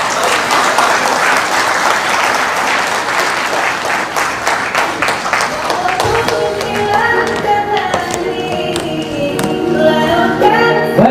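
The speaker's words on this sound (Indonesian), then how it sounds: "kembali berikan aplaus Anda kepada Sierra" An audience applauds after a speech at an Indonesian corporate event, loud sustained clapping close by, with music rising underneath midway.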